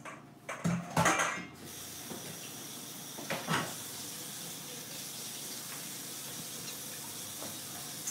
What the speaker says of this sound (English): I'm about to rinse my vegetables.